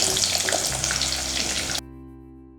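Onions and garlic sauté in a pan for Sankara fish curry, a dense sizzling hiss with light stirring that cuts off abruptly partway through, leaving near silence.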